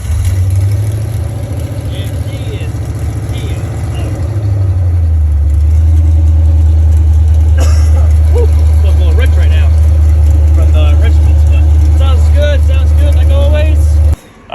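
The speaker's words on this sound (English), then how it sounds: "So let's go give it a little cold start." A Mustang drag car's engine cold-starts, jumping from a higher cranking whir to a deep, loud, steady idle rumble that holds close and strong to the end before cutting off abruptly.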